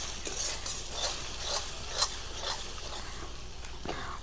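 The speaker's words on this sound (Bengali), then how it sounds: "দিয়ে ভালোভাবে মশলাটি ভেজে নেব" A tomato, cumin and dried chilli masala fries in a pan at a modest level, a soft sizzle broken by rhythmic stirring strokes, one slightly louder, with no speech.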